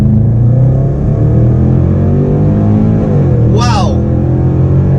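Supercharged 5-liter V8 of a 2017 Range Rover Sport SVR, a steady loud engine drone with a rising rev sweep near the end, heard over ongoing talk.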